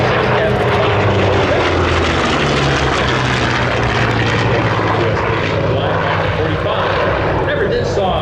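A Grumman F6F Hellcat warbird flies at an air display, its propeller engine roaring loud and continuous while an announcer talks over it.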